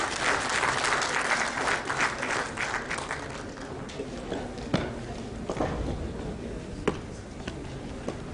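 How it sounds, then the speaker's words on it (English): Audience applause at a space science and technology cooperation ceremony, dense clapping loud at first and thinning into scattered claps, with a few sharp individual claps near the end. "Please give them a big applause."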